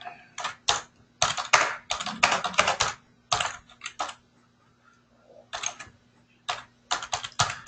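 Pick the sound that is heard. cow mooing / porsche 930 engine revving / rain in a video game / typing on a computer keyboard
typing on a computer keyboard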